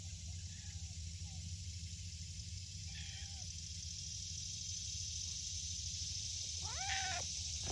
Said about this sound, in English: Here's a Bobby cat.